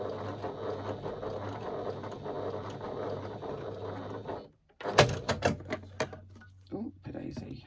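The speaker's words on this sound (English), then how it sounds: "going to stitch along that straight edge using an 1/8 of an inch seam allowance" A sewing machine stitches a straight edge with a steady, continuous mechanical whirr for several seconds, then stops and gives a few clicks and clunks while someone talks.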